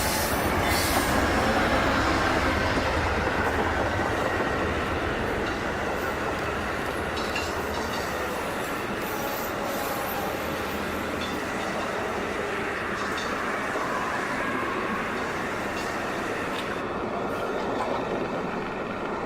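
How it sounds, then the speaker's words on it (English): Amtrak passenger train PO30, locomotive 42 leading, rolls past Q1 Tower on the Metropolitan Subdivision with limited clearance, a loud sustained rumble of wheels and cars with clickety-clack and squealing wheels, continuous for the whole pass, no voices. "Here's our train, PO30 with 42 leading, going into Q1 Tower right now with a limited clearance."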